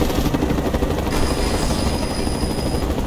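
Steady whirring rotor and engine roar of an enemy helicopter in the video game Mercenaries 2, a continuous loud drone with no talk over it.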